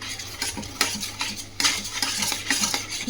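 A spoon stirs prawn curry with salt and turmeric in a pan, making repeated scraping strokes and clinks against the metal over a soft, steady sizzle, close and fairly clear.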